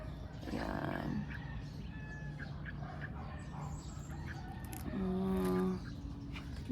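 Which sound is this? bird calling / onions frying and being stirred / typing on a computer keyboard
bird calling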